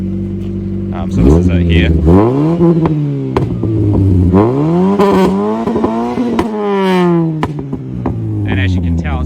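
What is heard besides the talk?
Toyota Corolla EE90 2E engine revving, Yamaha R1 exhaust tip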